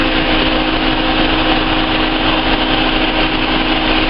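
A second radiator cooling fan added to a Hyundai runs steadily, giving a loud, constant whooshing roar of moving air with no change throughout.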